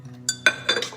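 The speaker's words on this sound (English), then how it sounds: "I'll give that a stir." A spoon stirs challah dough ingredients in a bowl, giving a few quick, bright clinks against the side in close succession, near and clear.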